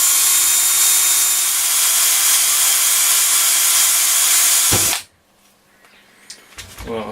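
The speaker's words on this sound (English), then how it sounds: "I'm drilling from this side because there's like a rivet in here that's the right way round, so bear with me with the noise" An electric drill drills out a rivet on a Dynatron Nomad TP11 radio, a loud, steady, close whine for about five seconds that stops abruptly, followed by quiet handling clicks and knocks.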